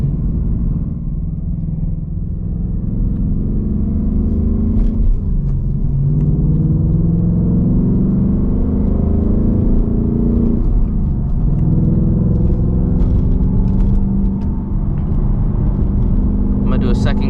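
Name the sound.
S650 Mustang GT accelerating hard through the gears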